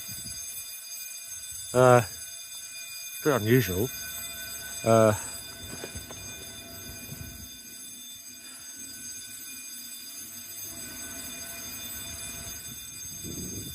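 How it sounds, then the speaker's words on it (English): A burglar alarm at Chipping Barnet library rings on in a steady, unbroken electronic tone from some distance, while someone speaks briefly near the start. "there's a burglar alarm going off."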